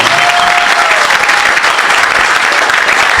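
A church congregation claps and applauds steadily for Jesus during an evangelical worship service, a dense, even wash of hands filling the whole moment with no pauses.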